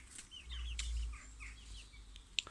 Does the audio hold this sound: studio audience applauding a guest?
no